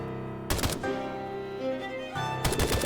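Rapid bursts of AK rifle fire in a video game crack out in two short volleys separated by a pause, loud and close, with a droning tone underneath.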